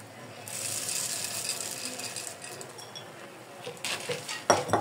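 Flattened rice and peanuts are stirred in a pan on low gas, scraping and rattling spoon strokes with a faint sizzle, ending in a few louder metallic clinks.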